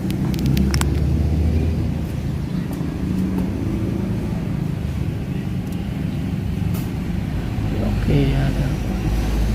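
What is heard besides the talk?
Suzuki Ciaz car engine idling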